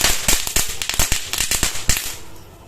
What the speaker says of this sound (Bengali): এবার আমি চুটপুট ফাটাবো।